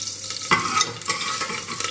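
Cumin seeds spluttering in hot oil for foxtail millet khichdi, a dense steady crackle and sizzle with a few sharper pops, close and alone without talk.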